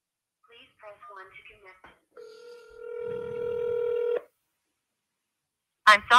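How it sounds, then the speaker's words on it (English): A phone dials a call: a quick run of keypad tones follows brief speech, then a long steady ringback tone sounds before cutting off, and a voice starts again at the very end. "I'm going to call the first one right here."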